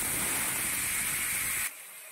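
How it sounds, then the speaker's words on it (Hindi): Cumin seeds and dried chilies sizzle in hot oil, tempering a bamboo shoot curry: a loud, steady, close hiss that cuts off abruptly near the end. "तेल गर्म हो गया, मम्मा छौंक लगा दे रही हैं जीरे और मिर्चे का।"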